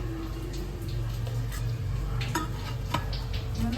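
Garlic, ginger and dried red chillies are stirred in a pan for mint chutney, with a steady close background and scattered clinks and scrapes of a utensil against the pan.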